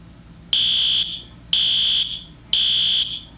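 Fire alarm going off indoors, three loud, even high-pitched electronic beeps of about half a second each, separated by short gaps, with a faint hum beneath and no voices.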